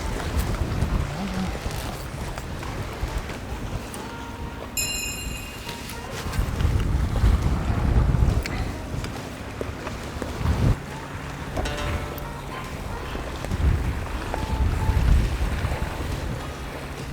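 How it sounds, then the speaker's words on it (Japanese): Wind blows at a seaside fishing spot at Yuasa in Wakayama during shore squid fishing, a steady rushing buffeting the microphone with louder gusts and surges throughout. "ちょっと風がもう後ろからアゲンストで吹いてるんで"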